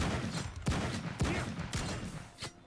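Gunfire from the video game Madness Project Nexus: a run of four sharp, loud shots spaced roughly half a second apart, each cutting through a steady background of game noise, with no talking.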